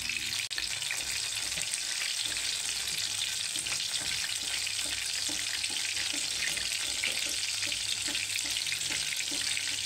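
An egg fries in a pan on low heat, giving a steady, even sizzle and crackle throughout, close and moderately loud, with no voices.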